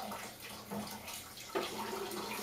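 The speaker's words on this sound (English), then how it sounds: "doing a quick water rinse" Running water from a tap rinsing an electroformed metal part after an alkali cleaner, a steady close splashing flow with small shifts as the part moves under the stream.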